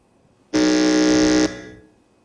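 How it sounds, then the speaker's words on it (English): A quiz contestant's electronic buzzer at a junior school quiz contest sounds once as a steady, loud, harsh tone lasting about a second, with a short fading ring afterward. "Can we go through the sounding of your buzzer one more time?"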